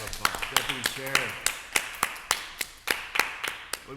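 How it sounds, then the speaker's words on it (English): Sparse, steady handclaps ring out at a live political fundraising webathon as a deputy chair is introduced, sounding like only a few people clapping in an even rhythm, with a voice briefly speaking underneath near the start. "Let's give a round of applause."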